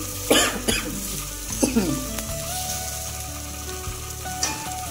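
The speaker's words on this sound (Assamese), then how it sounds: "ফ্ৰাই কৰি লৈছোঁ ইয়াত" Food fries in a pan with a steady, close sizzle, broken by a few short stirring or clattering sounds and a brief cough.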